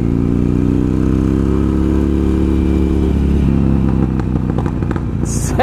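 A Harley-Davidson 1200 motorcycle engine rumbles loud and close at a steady idle with a deep exhaust throb, picking up a slight mechanical clatter near the end.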